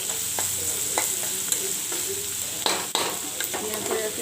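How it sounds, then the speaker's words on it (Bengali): Chopped garlic frying over high heat in a pan, a steady soft sizzle with occasional louder crackles and stirring scrapes, close and alone. "আর দিয়ে দেবো রসুন কুচানো, রসুন কুচি। এরপর এটাকে জোর বাড়িয়ে দিয়ে ভালোভাবে ভেজে নেব।"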